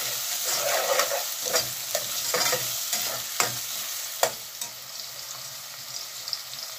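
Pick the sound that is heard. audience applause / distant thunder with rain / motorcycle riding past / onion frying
onion frying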